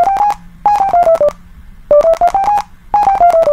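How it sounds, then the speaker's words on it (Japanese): A programmed toy robot plays a simple, eerie electronic melody of bright beeping tones, in repeated short phrases separated by brief pauses, loud and close with no talking. "暗くなるとこのように不気味な音楽が流れます"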